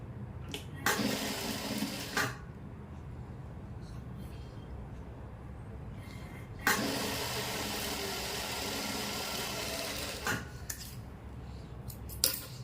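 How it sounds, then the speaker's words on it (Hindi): A sewing machine stitches piping onto a kurti, running in two separate bursts of steady mechanical whirring with quiet pauses between them. "ये देखो सिलाई लगा दी, पक्का कर दिया दोनों साइड"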